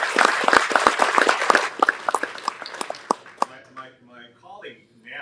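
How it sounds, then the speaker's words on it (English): Audience applause at a homeless service centre opening, with distinct sharp claps that thin out and stop, followed by a voice speaking. "Can we please give them a big round of applause?"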